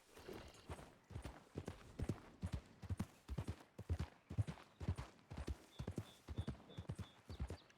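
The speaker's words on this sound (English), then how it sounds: "Look at that horse there." Horse hooves clip-clop in Red Dead Redemption 2, paired thuds in an even walking rhythm, close and moderately loud, with a faint high chime partway through.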